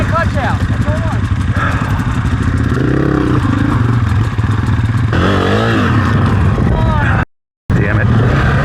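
Dirt bike engine revving loudly as the clutch is let out during training, the rising whine repeating close by over steady engine drone, with speech around it.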